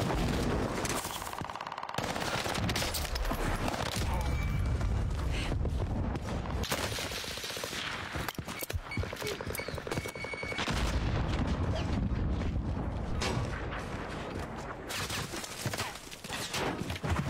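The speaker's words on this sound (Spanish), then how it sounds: "Yo disparando como si fuera una Stitcher." Sniper rifle shots ring out in a Warzone Caldera match, loud, sharp reports repeating through a dense, continuous stretch of game gunfire and battle noise.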